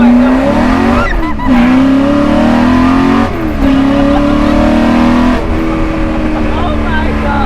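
A Ford GT40 or Ford GT sports car accelerating hard, loud and close, its engine climbing in pitch through three gear changes with brief dips between them, as people talk inside the car.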